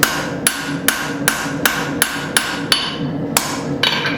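Steady hammer blows on steel stock being forged into a knife, about ten sharp ringing strikes at an even pace, close and loud with a brief pause before the last few.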